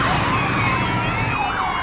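Police car sirens wail loudly and close, their rising and falling tones overlapping as if from several vehicles, continuous over the short span.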